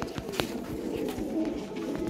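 Pigeons kept for sale coo nearby, soft repeated throaty calls over a light background hum, with a few sharp knocks mixed in.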